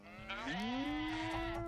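A goat or sheep on a small farm lets out one close, loud, wavering bleat that is held for over a second, with no talk.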